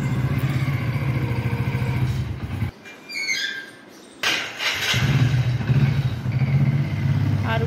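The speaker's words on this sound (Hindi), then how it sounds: "अभी आरू के पापा ने बाइक निकाल ली है।" A motorcycle engine idles and revs close by, with a brief quiet gap and a squeal before the bike pulls away, the engine rising again as it rides off.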